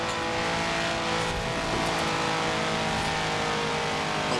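A racing car's engine in Forza Horizon 4 screams at redline during a C-Class race, a loud, sustained, near-constant high rev with a slight tire squeal and no pauses.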